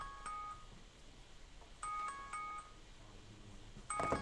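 An old mobile phone ringtone going off, short electronic tonal bursts repeating in a pattern, fairly faint against background noise, with no talking.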